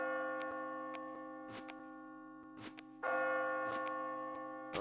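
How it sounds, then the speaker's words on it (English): In the puzzle game Catherine, a bell rings repeatedly in a sustained, steady tone with sharp clicking ticks. A stronger chime enters midway, all under a faint ambient hum, with no talking. "As you near the top, you will hear a bell ring."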